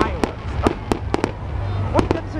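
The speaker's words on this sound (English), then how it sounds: "That's a firework." Cartoon fireworks burst in a fireworks park, a quick series of sharp pops and crackles at irregular intervals over a steady background hum.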